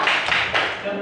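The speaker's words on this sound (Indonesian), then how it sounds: "Kita beri tepuk salut untuk Mas Bima." A classroom of students gives a 'tepuk salut' round of clapping for Mas Bima, dense continuous hand claps with a few stronger bursts, close and loud throughout, filling the short moment with no voice over them.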